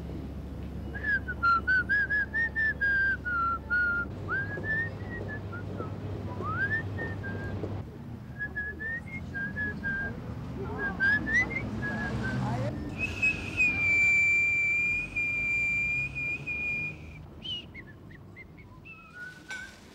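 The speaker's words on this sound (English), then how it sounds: "Would you like to whistle a few bars for me?" A person whistles a tune in a long melodic line of gliding notes, near and clear, with short pauses between phrases and a held higher passage near the end, over a low background hum.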